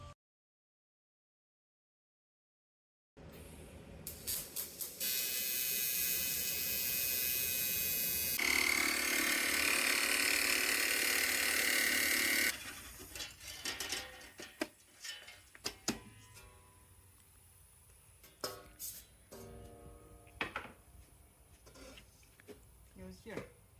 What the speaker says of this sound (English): Now it gets welded.